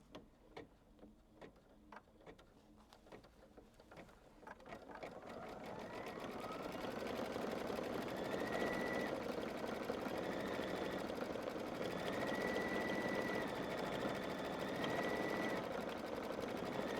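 An embroidery machine stitching a tack-down line on a quilt project, starting with a few separate ticks, then running as a steady rapid mechanical whir with a faint high whine, close and continuous.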